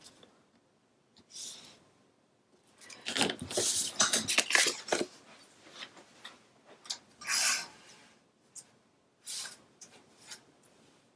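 Black cardstock being trimmed for a craft page, a run of quiet close scraping and cutting strokes in irregular bursts with short pauses between them.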